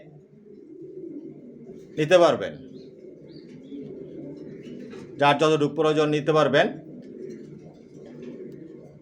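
Racer pigeons, young birds of an original racing breed kept for sale, coo low and steadily in the background while someone talks over them with a few louder bursts of speech.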